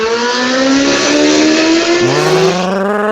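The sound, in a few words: car revving in the background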